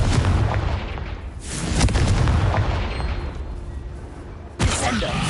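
A Confringo spell blast in the video game Hogwarts Legacy: loud explosive booms burst out, with one sharp blast near the end, over a busy backdrop of game effects and a voice.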